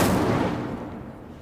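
The Incendio fire spell cast in Hogwarts Legacy: a single loud, sudden burst of flame that fades into a hissing, crackling decay within about a second.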